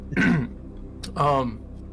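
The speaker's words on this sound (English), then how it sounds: "clear your throat" Someone clears their throat twice in quick succession, close and fairly loud, with a short pause between the two bursts.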